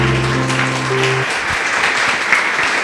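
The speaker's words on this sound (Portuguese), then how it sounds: "Louve a Ele com suas palmas," A church congregation claps hands loudly and continuously, dense applause filling the space, following a sustained organ or keyboard chord that cuts off early.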